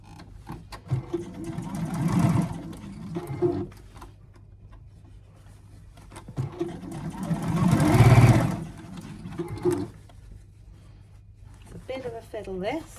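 A sewing machine stitches the seams of a fabric Easter box bag in two sustained bursts, running close and steady, with a person talking quietly between and over the stitching.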